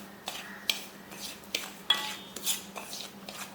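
A spoon mixes cardamom powder, salt and food colour in a small bowl, giving a series of light metallic clinks and scrapes at irregular intervals, quiet and close with no voices.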